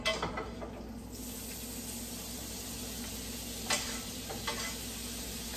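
Butter melting in a pan for Italian spaghetti with sausage, a soft steady sizzle with a few light clinks and scrapes of stirring, no talk.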